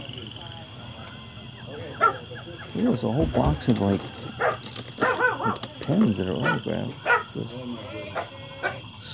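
Puppies bark and whimper in a series of close, high yips and whines, while a person talks over them.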